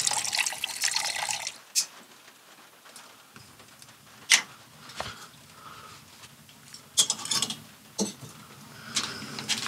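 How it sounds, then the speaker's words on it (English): Water trickles and splashes from the tap of a pressurised water can in short bursts, with intermittent drips and gushes over a quiet background. "with just a little bit of a modification, I've pressurised it so that I've pretty much got water on tap"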